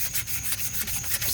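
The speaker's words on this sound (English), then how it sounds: "sanding all the roughness back out of the primer" Primer on a 2004 Saturn Vue Redline wheel is sanded by hand, a quick rhythmic scratchy rubbing in short strokes, close and steady with no talk.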